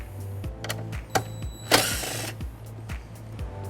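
An 8mm socket on a power tool backs out a bumper bolt on a 2022 BMW X3, producing a rapid repeating ratchet-like clicking with a loud burst of whirring midway, close and clear with no talk.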